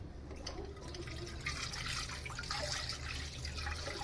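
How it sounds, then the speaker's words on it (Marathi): A goat brain is rinsed under a running tap, with a steady close splashing and trickling of water and soft handling sounds throughout. "आणि भेजा पण धुवून घेऊ."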